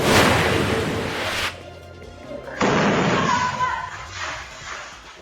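Explosion in front of a gas station in Sharif Aguak, Maguindanao del Sur: a loud broadband blast at the start cuts off abruptly, followed by a second burst of rumbling noise and debris, with faint voices underneath.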